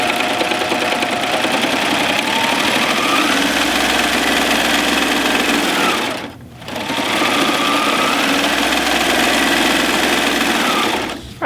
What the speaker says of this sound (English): Now I'm going to serge the short edges